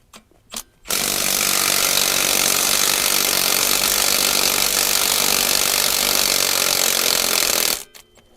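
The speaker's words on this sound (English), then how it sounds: "So hopefully my impact has enough juice to get these bolts out." An impact wrench removes the mounting bolts from a DOC mount bracket on a Bobcat 5600 Toolcat. It runs as one loud, continuous close-up whir for about seven seconds, bracketed by a few brief knocks.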